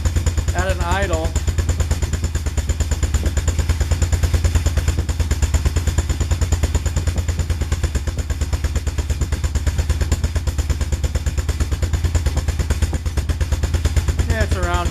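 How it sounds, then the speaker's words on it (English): An ATV idles through its burned-out factory muffler with a steady, throbbing low putter and rattling clatter, close and continuous, while someone talks over it. "here's the factory burned out muffler at an idle"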